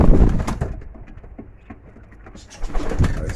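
Racing pigeons coo in soft, throaty bursts nearby, louder at the start and end with a quieter stretch in the middle, amid light rustling and background noise outdoors.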